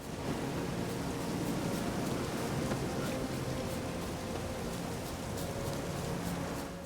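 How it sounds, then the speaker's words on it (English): Steady rain hisses evenly throughout a stretch of the video game The Witcher 3, a soft continuous wash of noise with faint game sounds beneath it. "It's raining."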